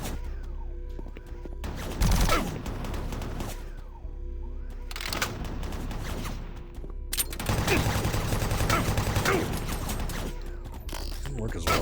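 Chaingunner enemies fire in Doom 3, bursts of rapid, loud mechanical gunfire that come in several long volleys separated by brief lulls, with game ambience and a voice mixed in.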